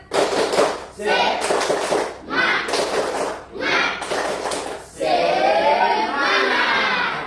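A classroom of students performing a spirit clap chant, loud group bursts of rhythmic clapping and shouting in several pulses, then a sustained cheering crowd sound to the end.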